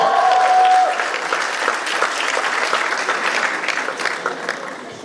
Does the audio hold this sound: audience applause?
yes